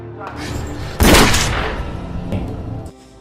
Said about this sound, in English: He uses the rifle he carries to kill the gangster.